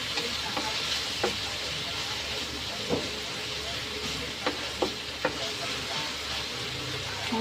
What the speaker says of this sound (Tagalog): i-mix na natin yung ating pork